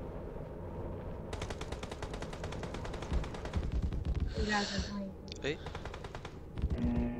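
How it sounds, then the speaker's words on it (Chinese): Rapid crackling bursts of fireworks from a PUBG Mobile lobby event, a long rattling string followed by whooshes and a high whistle, with a player's brief exclamation and breaths over the game sounds. "这烟花哪里拿的？"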